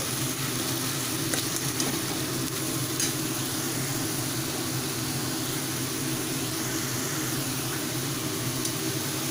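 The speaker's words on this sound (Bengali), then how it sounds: "পেঁয়াজটাকে ভালোভাবে একটু কষিয়ে নিতে হবে" Onion sautés in a pan with an even, continuous hiss that holds steady throughout. A few faint stirring ticks sit underneath, and no one speaks.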